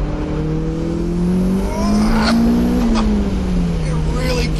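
Turbocharged car pulling hard under about 22.6 PSI of boost after fuel pressure regulator tuning, engine note climbing steadily then dipping at a shift and rising again, loud and close with a droning in-cabin tone.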